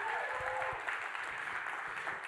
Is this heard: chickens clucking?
no